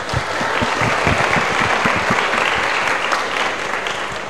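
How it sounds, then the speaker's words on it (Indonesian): A school assembly audience gives a student a loud, dense round of applause that holds steady from start to finish, with many hands clapping close by. "Nah, Kak Fadila, dikasih tepuk tangan dulu dong."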